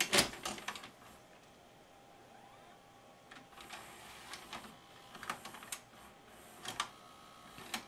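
A VHS cassette slides into a VCR and loads, heard as a run of close mechanical clicks, clunks and whirring ticks spread across the moment, with short quiet gaps and no talking.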